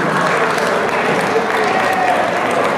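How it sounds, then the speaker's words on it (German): Audience applause at a 775th anniversary village festival parade in Dallmin, 2014, a steady continuous clapping wash with crowd murmur throughout, fairly close and loud. "Auch Ihnen einen Applaus und herzlich willkommen."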